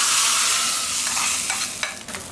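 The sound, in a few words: frying garlic and dried chillies for tempering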